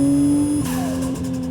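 A Toyota Chaser with a 1JZ engine pulls hard under full load, a loud steady engine tone with a high turbo whine that shifts partway through as the gear and pitch change.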